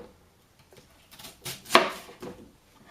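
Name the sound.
chopping an onion with a knife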